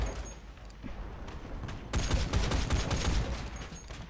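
Rapid bursts from a Type 94 Isuzu flak gun in the tank game War Thunder, loud and dense, building into a heavier volley in the second half.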